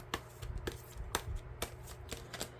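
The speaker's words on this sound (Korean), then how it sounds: "카드랑 메시지 카드도 한 장씩 뽑아 볼게요" Oracle cards being shuffled and drawn from a deck, a quick series of soft, crisp card flicks and slaps in an uneven rhythm, close and quiet with no voices.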